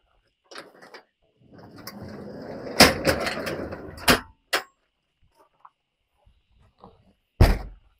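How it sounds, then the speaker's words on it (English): Storage compartment door on a 2004 Country Coach National Islander diesel pusher motorhome shutting with a solid metallic clang, followed by a couple of shorter clunks and latch knocks, close by with no talk. "And I love the way door shuts."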